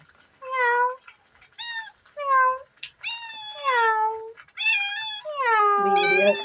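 A house cat meows repeatedly at close range in a home kitchen, giving a string of about nine rising and falling calls with short gaps between them, loud and clear with no talk.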